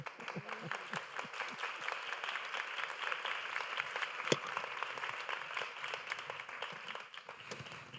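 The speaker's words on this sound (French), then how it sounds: "On l'applaudit bien fort" An audience at a live arts gathering applauds steadily for about eight seconds, a dense wash of clapping with one sharp louder clap near the middle, fading slightly at the end.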